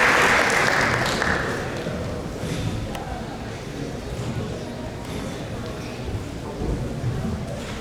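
An audience at a temple gathering applauds to welcome a speaker, loud dense clapping at the start that thins into a softer sustained patter, with some murmuring underneath.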